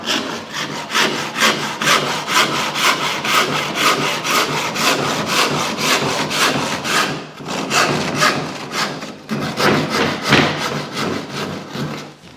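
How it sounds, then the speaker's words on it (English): A hand saw cuts the mitre profile of a wooden skirting board, producing steady rhythmic rasping strokes close up, with short pauses near the middle and again toward the end. "Then we're going to cut the profile of that mitre out."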